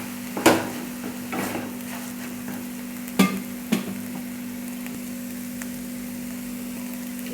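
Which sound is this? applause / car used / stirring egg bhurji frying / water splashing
stirring egg bhurji frying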